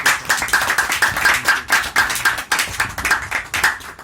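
A church congregation claps hands together in a steady, dense rhythm, many palms striking at once in repeated bursts that fill the room, loud and close with no talking over it.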